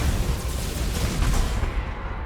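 Naval cannon broadsides from a warship's port side in the space battle game Battlefleet Gothic Armada 2, heard as a dense, continuous rumble of overlapping heavy booms and blasts, loud and sustained throughout.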